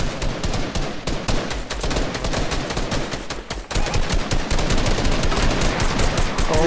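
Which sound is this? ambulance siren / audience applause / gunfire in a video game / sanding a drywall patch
gunfire in a video game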